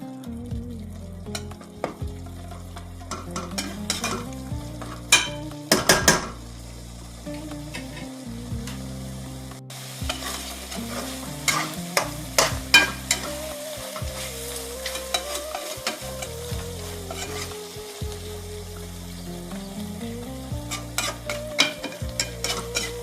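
Biryani masala fries and is stirred in a pan for a Pollachi-style mutton biryani, a steady sizzle broken by repeated scraping and clanking of the spoon against the metal, with no talking.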